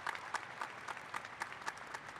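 Audience applause at a university commencement ceremony, a faint steady spread of clapping from a large crowd with a few louder individual claps standing out.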